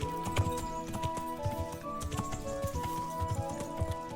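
Horse hooves clip-clop at a walking pace in the video game Kingdom Come: Deliverance over a layered musical backdrop, quiet and steady, with faint chiming tones throughout.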